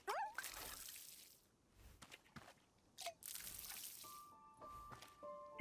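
Watering plants in the cozy tea-shop game Wanderstop produces sparse, soft drips and trickles of water separated by quiet gaps, with a few brief chime-like game tones and no talking.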